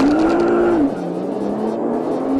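Nissan GT-R twin-turbocharged supercar launching under launch control, a loud close engine drone that climbs, drops briefly at a gear change, then builds again.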